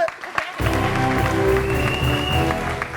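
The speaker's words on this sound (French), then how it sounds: "Applaudissez pour PDG." Studio audience applauding on a French TV variety show, a dense steady clapping that fills the whole clip, with music or crowd noise underneath and no clear speech.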